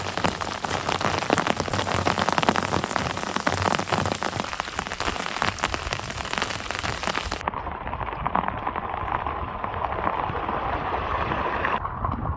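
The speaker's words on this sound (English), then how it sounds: "we got quite the downpour just all of a sudden coming down" Heavy rain pours down in a dense, unbroken hiss in the high desert, drumming steadily on surfaces close by without letup.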